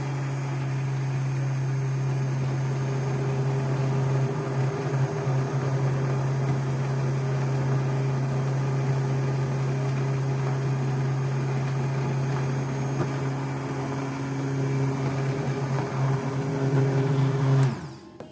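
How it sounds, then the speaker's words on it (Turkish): A hand blender whirs steadily for many seconds pureeing red lentil soup, a constant motor hum that winds down abruptly at the end. "Bu kıvama geldikten sonra mikserle çırpıyorum."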